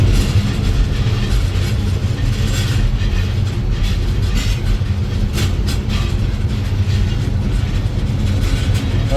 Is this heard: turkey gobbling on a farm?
no